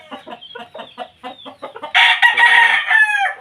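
A Roundhead gamecock rooster clucks in a quick run of short notes, then breaks into a loud, drawn-out crow close by.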